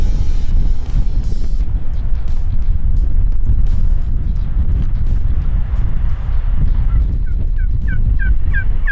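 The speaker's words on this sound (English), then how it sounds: "He's gobbling and getting closer" Wild turkey gobbling during a South Dakota turkey hunt in the Pine Ridge area, with several sharp gobbles repeating toward the end over steady wind rumble on the microphone.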